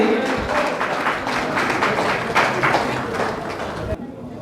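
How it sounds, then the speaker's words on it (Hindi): Sustained crowd applause at a Vishwakarma Jayanti procession ceremony welcoming guests, steady dense clapping for about four seconds with voices mixed in, then cutting off abruptly. "तालियां रुकनी नहीं चाहिए।"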